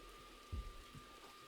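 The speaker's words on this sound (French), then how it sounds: "Oh non, il pleut." Rain falling in Roblox, a soft steady wash of faint drizzle throughout with a brief low thump partway through, no voices.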